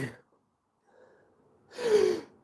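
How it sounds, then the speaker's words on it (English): A short breathy intake followed by a single loud, sharp sneeze, close by, with silence between. "Yes, I sneezed."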